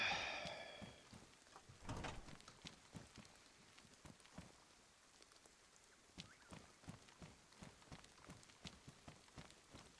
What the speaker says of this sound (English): But it is now raining.